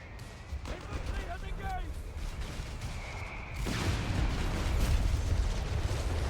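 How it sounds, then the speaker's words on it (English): Mortar fire and shell impacts rumble through a Company of Heroes 3 tournament match, muffled booms building into a louder, continuous barrage in the second half, with a commentator talking over the battle throughout. "The mortar fight is pretty funny."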